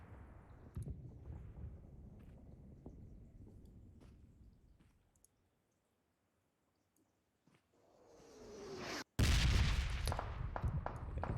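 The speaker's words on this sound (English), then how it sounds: "And here come the bombs down." Red zone bombs explode in a battle royale video game as repeated booming blasts and rumbles, falling quiet midway, then a sharp loud burst followed by a rapid string of close explosions.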